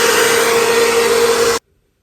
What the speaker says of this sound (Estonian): Hea küll, ma käin föönitan oma juuksed ära ja I'll be back.